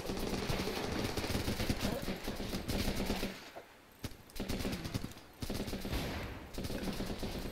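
Suppressing gunfire in the video game Running With Rifles: loud, rapid automatic bursts crackle almost continuously, broken by two short pauses, with no voices over the shooting.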